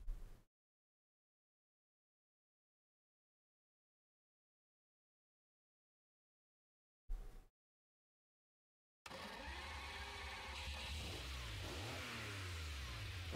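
A Ferrari 512 BB in GT Sport revs hard around Monza after two brief sound snippets separated by silence, the engine note climbing loud and sustained through rising gears for the last four seconds.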